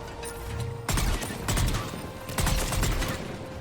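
Enemy gunfire in Mass Effect 3 comes as several sharp bursts of rapid shots, each starting abruptly and lasting about half a second, over a low steady game hum.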